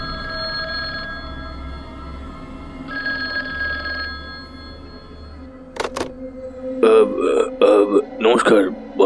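A telephone rings in two separate bursts, each a bright, steady trill; after a pause, voices begin talking and carry on to the end.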